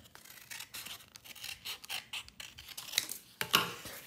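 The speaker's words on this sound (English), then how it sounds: "And we're going to cut that in half." Scissors slice through folded material in short rasping snips and rubbing scrapes, close and quiet, with sharper cuts near the end.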